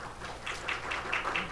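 Audience applause of thanks in a hall at a landscape society seminar, a soft, fairly distant patter of many hands clapping that holds steady and swells slightly near the end.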